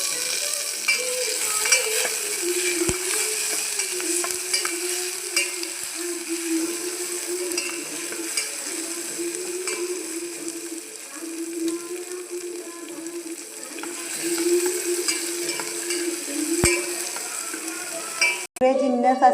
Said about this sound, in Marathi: आता हा लसूण आणि टोमॅटो हा एकत्र परतून घेणार आहे.